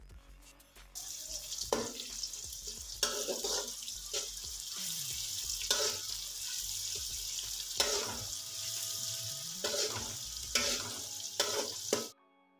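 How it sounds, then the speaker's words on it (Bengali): A medium-sized sliced onion fries in a pan for chicken khichuri, giving a steady close sizzle and bubbling hiss throughout, with occasional stirring scrapes and no talking. "এবার পেঁয়াজটা খুব ভালো করে লাল করে ভেজে নিতে হবে।"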